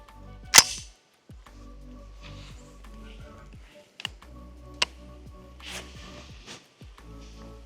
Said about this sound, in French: On va ramener la culasse un coup sec et on la relâche.